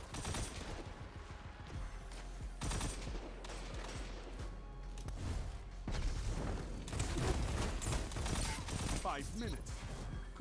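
Rapid bursts of gunfire and heavy booms fill a Destiny 2 firefight, with repeated volleys and shots layered in quick succession, loud and continuous for most of the stretch.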